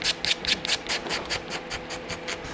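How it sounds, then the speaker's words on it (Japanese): Glass edge scraping the surface of a stacked-leather shoe heel on a handmade full-brogue shoe, a close, steady rhythmic rasp of about a dozen quick back-and-forth strokes, loud and alone. "こんな風にガラスで削っていると"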